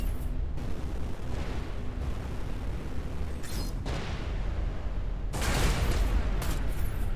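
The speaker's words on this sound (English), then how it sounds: "I was point blank when I ate that petrol bomb to the face." Explosions and blasts in the space combat game Everspace 2, a petrol bomb among them, arriving as a series of loud, rumbling bursts over a constant heavy noise bed, with the strongest blast near the end.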